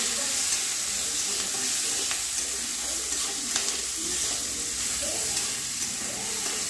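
Cumin, bay leaves, green and dried chillies and chopped capsicum sizzle steadily in hot oil in a pan, a close, continuous crackling fry with a few stirring clatters and no talk.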